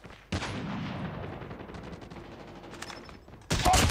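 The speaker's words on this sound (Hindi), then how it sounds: "कोई तो स्नाइपिंग कर रहा मस्त में।" A sniper rifle fires in the mobile video game Call of Duty Mobile. Two loud, close gunshots sound several seconds apart, each with a sustained rumbling tail, and no talking.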